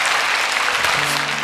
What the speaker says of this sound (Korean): 우리 박수로 축복하고 격려하겠습니다